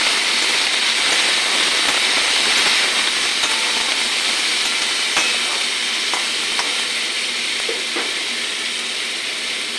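Flat beans and green tomato cooking in a pan with salt and turmeric stirred in: a loud, continuous sizzle with scraping stirs and occasional ticks, with no voices.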